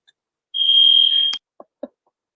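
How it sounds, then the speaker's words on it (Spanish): A smoke alarm in a home gives one steady, high electronic beep lasting under a second, followed by a few soft clicks and knocks in otherwise quiet surroundings. "corre, es la alarma"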